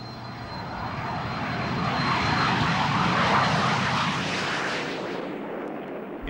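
Soviet military jet aircraft flying in loose formation, a broad roaring engine rush that swells toward a loud peak near the middle and then fades away.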